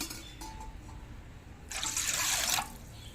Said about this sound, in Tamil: அதுக்கு 2 கப்பு தண்ணி ஊற்றிக்கலாம்